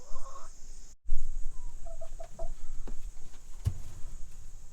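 A backyard homestead hen clucks in a few short, mid-pitched bursts around the middle, moderately close, over steady insect-like hiss and light background noise.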